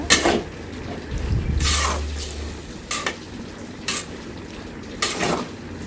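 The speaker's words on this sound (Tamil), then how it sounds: "அந்த மசாலாவோடு நல்லா எல்லாத்தையும் போட்டு கிளறி விடுங்க" Chicken coated in masala is stirred in a pan, with close scraping and clinking of a spoon against metal at irregular intervals over a faint low sizzle.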